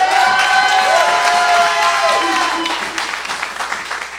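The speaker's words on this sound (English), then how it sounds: "applaud and make some noise" A loud crowd at a Wednesday service claps and cheers, with whoops and shouting voices over thick applause that gradually thins out toward the end.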